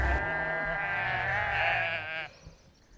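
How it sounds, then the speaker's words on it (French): A Belle-Île sheep gives one long, loud, wavering bleat lasting about two seconds, close by and clear, followed by a short quiet tail of ambient noise. "Alors le mouton de Belle-Île"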